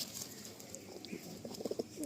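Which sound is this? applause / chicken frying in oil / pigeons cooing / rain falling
pigeons cooing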